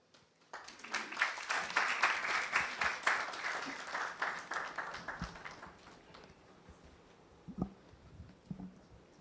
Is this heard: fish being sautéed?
no